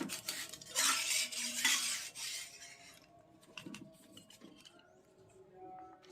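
Martabak manis Bangka lifted quickly from a metal baking pan, with scraping and clattering metal utensil sounds up close, loudest at first and then fading into sparse light knocks.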